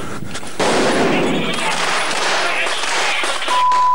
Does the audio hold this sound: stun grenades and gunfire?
yes